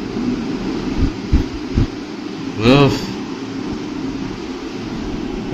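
A steady mechanical hum of an air conditioner runs throughout, with a few thumps and a brief voice rising over it.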